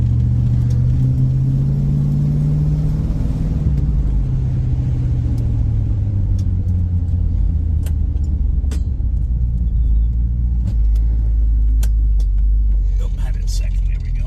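1965 Chrysler 300 with a 383 engine on a test drive, a deep, close engine rumble that rises and settles through gear shifts, with people talking over it.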